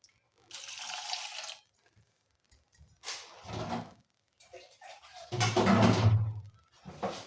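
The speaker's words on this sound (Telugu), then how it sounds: "ఇప్పుడైతే కొన్ని వాటర్ పోసుకుంటా." Water splashes from a tap into a cooking pot for boiling raw sweetcorn, in a few short bursts of running and pouring with quiet gaps, the last pour fuller and louder; a voice speaks in between.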